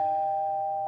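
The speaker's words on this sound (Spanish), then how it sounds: "cuando tocó el timbre." A cartoon doorbell rings in a Garfield episode, one sustained, clear electronic tone that holds steady for just under a second, heard alone without talk.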